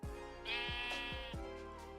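A Minecraft sheep bleats nearby, several short wavering calls in quick succession over a low background hum.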